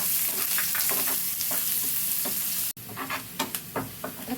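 Chopped onion and crushed garlic sautéing in hot oil, a loud close sizzle with repeated spatula scrapes and stirring knocks, briefly cut off near the end, no talk.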